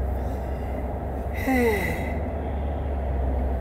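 A single close breathy yawn, drawn out for about a second with a rising then falling voiced tone, over a low steady room hum.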